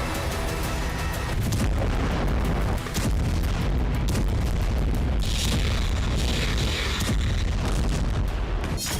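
Bomb explosions and heavy blasts in news footage from Gaza, booming continuously at high loudness with dense rumbling bursts and no clear pauses, and no speech over it.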